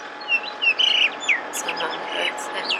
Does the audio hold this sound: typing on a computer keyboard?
no